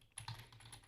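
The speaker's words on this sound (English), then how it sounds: "typing my password" Computer keyboard keys tapped in a quick burst while a password is entered, close and fairly quiet, with no one talking.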